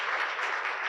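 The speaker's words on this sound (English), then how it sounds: "Can we get another round of applause for Andy Guthrie?" Audience applause at an arts showcase opening event: a steady, dense patter of many hands clapping, close and even throughout the short burst.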